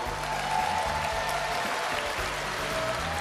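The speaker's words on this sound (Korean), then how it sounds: "이 선발된 일곱 명, 일곱 분께 축하와 응원의 박수를, 그리고 예, 응원의 박수를 보내주시고요" Audience applause for the seven Miss Korea 2012 finalists at the final and crowning ceremony, a steady dense wash of clapping across a large hall at even loudness throughout, with a faint tone running beneath it.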